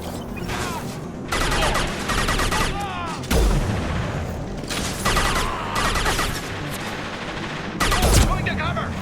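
Gunfire in Mass Effect 2 during the Warlord Grunt dossier mission, with dense bursts of rapid shots and heavy booms recurring across the span, loud and close, mixed with game voices.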